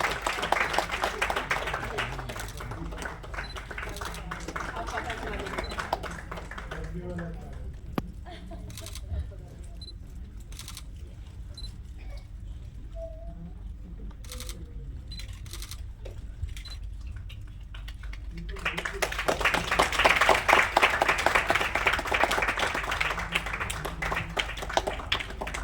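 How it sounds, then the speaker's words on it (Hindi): An award-function audience claps briefly, followed by a quieter stretch with camera clicks and talk, then a louder, fuller burst of applause near the end. "एक बार जोरदार तालियां अभिजीत सर के लिए"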